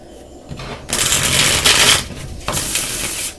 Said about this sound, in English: Okay, one more shuffle because that one wasn't great.